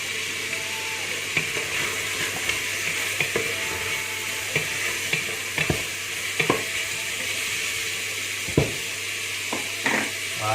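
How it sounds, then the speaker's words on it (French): Carrots, onions and garlic sauté in a pan with a steady close sizzle, as a spoon scrapes and stirs through them in scattered soft knocks. "on va ajouter donc carottes, oignons, ail. Et on va faire revenir ça pendant 5 minutes encore"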